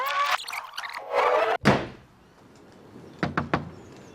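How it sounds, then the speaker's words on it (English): Knocks on a door come after a heavy thunk and some rustling, a short cluster of three or four sharp raps near the end, close and fairly loud, with no talk. "when they knocked on my door"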